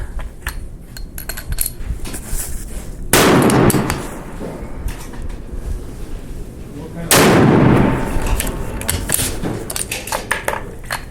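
Two heavy rifle shots at a 600-yard F Class match, each a loud, booming blast with a rolling decay, about four seconds apart over busy range background noise and faint clatter.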